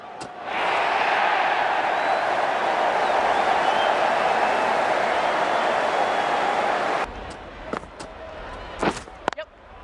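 Loud, sustained crowd roar in the Cricket 19 video game after a boundary in a Big Bash T20 match between Adelaide Strikers and Sydney Thunder, cheering for about seven seconds before cutting off to faint clicks.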